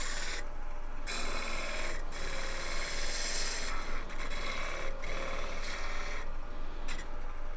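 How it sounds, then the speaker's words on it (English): Steady abrasive rasping of sandpaper against spinning wood on a lathe while turning a ball-and-vase illusion piece, continuous and close, with brief dips where the paper lifts off the surface. "So I sanded out the facets that are going to be too close to the chuck to sand."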